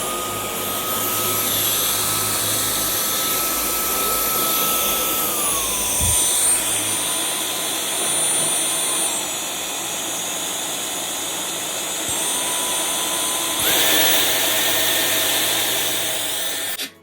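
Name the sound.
Dyson V12 Detect Slim cordless vacuum cleaner running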